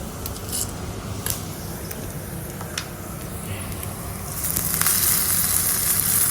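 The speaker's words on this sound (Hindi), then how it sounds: "तो अब हम इसको तड़का लगा देते हैं" Hot spice tempering sizzles sharply as it is poured into raita, a bright crackling hiss that swells louder near the end over faint background clatter.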